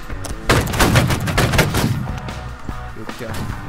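Musket volley fire in the Napoleonic line-battle game Holdfast, a ragged burst of many overlapping shots cracking close and loud, then trailing off into scattered reports.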